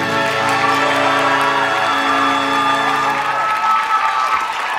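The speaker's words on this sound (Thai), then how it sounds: "ปรบมือแล้ว" Studio audience applause on a Thai game show, a loud, steady wash of clapping with some cheering over held musical tones, fading slightly toward the end.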